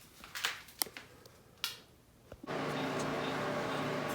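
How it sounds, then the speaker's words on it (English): Garage heater running in the background after a few light clicks and taps, its steady, broad whooshing hum kicking in abruptly and continuing evenly at moderate loudness to the end. "That's just my heater keeping me warm."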